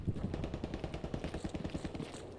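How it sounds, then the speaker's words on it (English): Rapid bursts of enemy machine-gun fire rattle in Hell Let Loose, a quick, steady stream of shots at moderate distance with no talk over them. "think we've got enemy gunfire over here."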